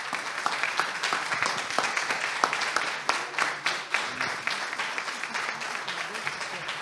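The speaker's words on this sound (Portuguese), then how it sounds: "Aí, mais aplausos." An audience at a public debate applauds, a dense spread of many hands clapping that carries on steadily for several seconds and stays moderately loud throughout.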